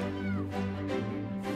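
A trapped kitten cries and screams from inside a downspout, a loud, continuous wailing with rising pitch sweeps, close and alone with no talk.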